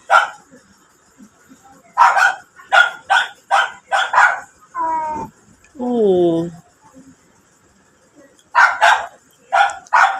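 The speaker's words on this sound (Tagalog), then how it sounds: "Tahol ng tahol yung mga aso." Dogs bark in quick bursts nearby, a cluster of sharp barks, then a couple of drawn-out whining yelps, followed by more barking.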